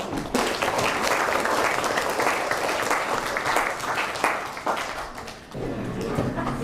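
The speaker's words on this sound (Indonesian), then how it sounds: "beri aplaus buat kita dengan sangat meriah sekali" An audience in a lecture hall claps together in loud, dense applause. The applause holds steady, dips briefly near the end and then picks up again.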